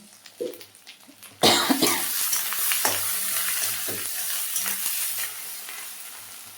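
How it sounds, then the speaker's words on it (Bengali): Goat fat frying in a pan with homemade cumin and coriander powder, a loud sizzle bursting in after a brief cough, then steady crackling with stirring scrapes, close up. "তোমরা দেখতে পাচ্ছ চর্বিগুলো একটু ভাজা ভাজা হয়ে গেছে"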